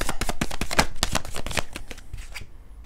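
Tarot cards being shuffled by hand, a rapid run of crisp riffling flicks close up that slows and thins out toward the end, with no voices.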